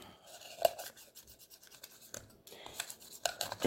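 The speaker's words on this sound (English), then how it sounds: "So I just scrape that out." Dried acrylic pour paint is scraped loose from inside a plastic cup, a faint, close, irregular rasping with short scratchy strokes and a few sharper scrapes.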